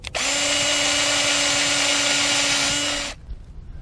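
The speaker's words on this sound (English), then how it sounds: "Next, we're going to go ahead and drill the vent hole." A power drill bores a small vent hole in a sump pump discharge pipe, giving a steady, loud, close whine for about three seconds before stopping abruptly.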